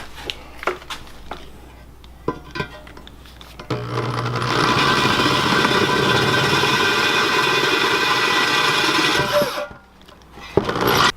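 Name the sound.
power drill drilling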